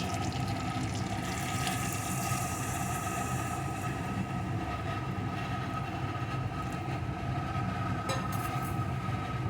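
Warm water pours steadily into a pot of fried moong dal for khichdi, a loud, continuous rushing splash close by with no break.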